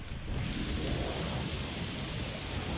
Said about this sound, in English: a game about driving in the rain